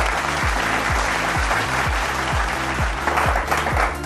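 Studio audience at a French-language television quiz show applauding, a dense, loud wash of clapping that holds steady from start to finish.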